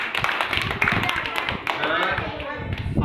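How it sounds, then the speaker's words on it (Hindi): Children in a classroom clap together in a quick, loud burst of rapid, uneven hand claps that runs throughout, with a teacher's voice briefly audible. "ताली बजाओ उसके लिए।"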